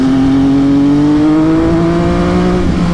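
An MV Agusta F3 800 three-cylinder motorcycle on a test ride, engine droning loud and close with a rising, slightly wavering tone as it accelerates, wind roar underneath, no talk.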